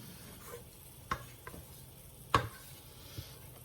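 A spatula scraping lemon cake batter out of a mixing bowl, a few quiet, scattered scrapes and soft knocks against a hushed kitchen background.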